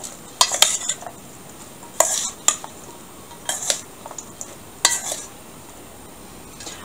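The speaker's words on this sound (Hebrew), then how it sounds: "אני מערבבת" Broccoli salad being stirred in a bowl, heard as several separate bursts of clinking and scraping utensil strokes spaced a second or so apart, close by, with quiet gaps between and no speech.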